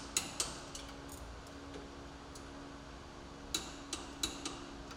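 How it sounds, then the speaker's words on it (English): Torque wrench clicking while A-arm fasteners on a Polaris RZR Trail are tightened, a few sharp isolated clicks spread over several seconds, faint against a quiet hum. "Continue by counterholding the A-arm fasteners and torque the fasteners to specification."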